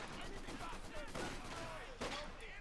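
Rifle grenade and dense gunfire in the World War II strategy game Company of Heroes 2: continuous rattling small-arms fire with a sharper burst near the end, loud and busy with no pauses.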